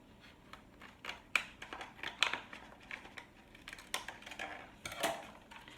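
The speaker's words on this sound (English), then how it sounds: "I'm just using some hair scissors, some old ones I don't use for my hair." Old hair scissors cutting through Cricut vinyl, a series of quiet, crisp snips and slicing clicks at uneven intervals, close up, with no talking.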